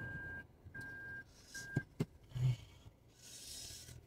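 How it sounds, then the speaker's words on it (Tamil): Vehicle reversing on a hot day, its reversing alarm giving three evenly spaced high beeps, with scraping thumps and road noise after, fairly faint overall. "வண்டி ரிவர்ஸ் எடுப்போம்"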